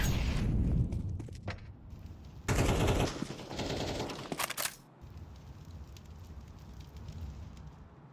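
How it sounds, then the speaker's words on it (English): An incendiary grenade erupts into a loud, roaring burst of fire and crackling noise in a first-person shooter match, fading after a few seconds into a steady low hiss of burning. "Throwing a grenade. Incendiary out."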